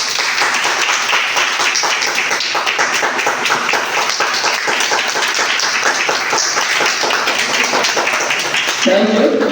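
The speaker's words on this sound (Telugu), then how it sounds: "Big claps." Clapping from an audience at a classroom lecture session runs steadily for several seconds, moderately loud and fairly even, with a brief voice near the end.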